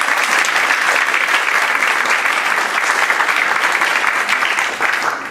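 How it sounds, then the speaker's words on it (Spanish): Audience applause at a book presentation: dense, steady clapping fills the room for about five seconds, loud and close, fading slightly at the end with no talk over it. "Aplausos para"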